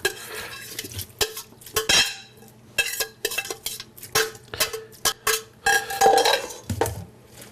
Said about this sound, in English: We're going to take the leeks, which have been cooked, or actually steamed, and just dump out the liquid into a colander